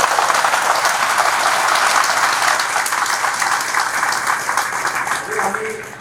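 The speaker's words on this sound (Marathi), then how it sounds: "आपण एवढ्या जोराने टाळ्या वाजवा की या टाळ्या आपल्या गावापर्यंत ऐकू गेल्या पाहिजे" An audience at a parents' meeting for an 11th-grade science orientation claps loudly and steadily throughout, with a voice speaking over the applause.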